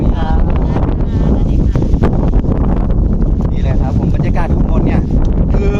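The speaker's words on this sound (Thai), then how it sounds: "ลมแรงมากๆเลยนะครับ" Strong wind on a hilltop in a forest area roaring loudly and continuously against the microphone, with heavy rumbling buffeting and someone talking over it.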